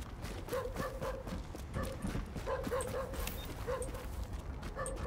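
Several dogs bark in short, repeated yelps and woofs at mid distance in the Tom Clancy's The Division video game, spread across the clip over a steady ambient game background.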